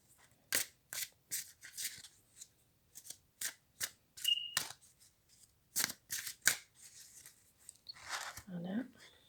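Tarot cards are drawn and handled in a reading, giving a series of sharp, separate flicks and slaps of card stock, about a dozen, with short pauses between them and a brief quiet voice near the end.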